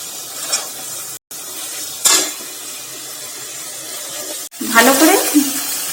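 Spices, onion, ginger and garlic sizzle in hot oil while a spoon stirs and scrapes the pan in a few distinct strokes, close up, with a soft constant frying hiss underneath.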